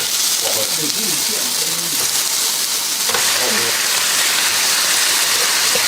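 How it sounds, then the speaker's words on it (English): Loud, steady sizzling of chicken wings frying on a hot plate, crackling continuously with a brief shift partway through. "when you put the chicken wings on, the hot plate's going to sizzle"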